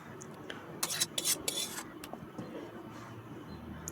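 Dishes and cutlery clink and clatter in a few quick bursts while cooked drumstick (sajne data) curry is served into a bowl in a home kitchen, fairly faint and close, with no talking.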